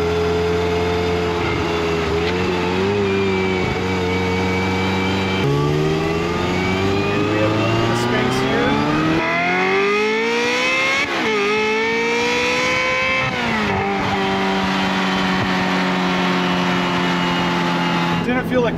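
A Ferrari F355 engine revs while driving, rising and falling through the gears with a loud, continuous high-pitched wail and shifts between climbs, heard from inside the car with a voice talking over it.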